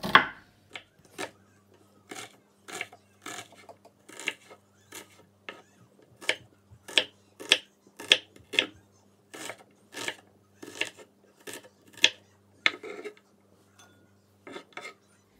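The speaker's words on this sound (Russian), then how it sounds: "Луковица маленькая, тоже очищенная. И нарезаем кубиками." A knife chops a small peeled onion into cubes on a cutting board, with steady sharp taps in quick rhythmic runs and brief pauses between them.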